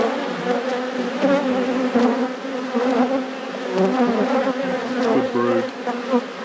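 A swarm-derived colony of honeybees buzzing during a spring hive inspection, a dense wavering drone of many wings close by, steady throughout with a single short spoken word at the end.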